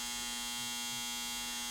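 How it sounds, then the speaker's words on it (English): A home clothes dryer runs with a steady, loud electric buzz and low hum that holds unchanged throughout, close by and without speech. "That right there is my dryer."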